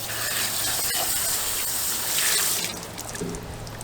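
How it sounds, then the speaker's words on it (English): Running water rinsing a processed Cornish Cross chicken carcass, a steady close splashing hiss that shifts in tone as the stream strikes the bird. "Okay, so then what I do, kind of lightly rinse everything off."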